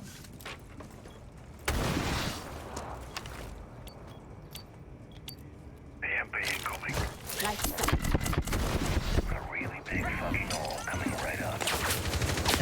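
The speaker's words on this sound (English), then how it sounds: "And gunshots are being fired." Gunfire in the video game Rainbow Six Siege during a college esports match; sharp bursts and rapid volleys start after a quiet stretch and build into dense, clattering shooting under steady commentary talk.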